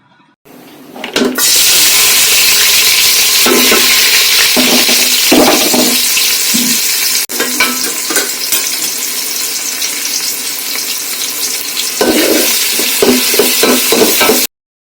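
Onions fry in oil in a pot for chicken biryani, a loud continuous sizzle that holds steady for the whole stretch, with occasional stirring clatter and no voices.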